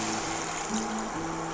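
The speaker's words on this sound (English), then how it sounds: "Now we can add in some cold water" Cold water pours steadily into a pot of seaweed for Korean seaweed soup, a constant close rushing trickle under a faint hum, without talking.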